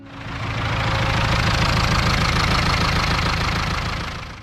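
A Ford 5000 farm tractor engine runs at a steady idle with a heavy, knocking diesel rumble, close and continuous, fading in and out with no one talking.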